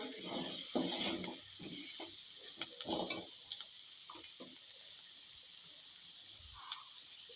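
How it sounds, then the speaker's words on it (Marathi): Steam-cooked bitter gourd vegetable with chopped coriander is sautéed in a pan, giving faint sizzling under a few scraping, rattling stir strokes that fade toward the end. "कोथंबीर घालून थोडं परतून घेऊया"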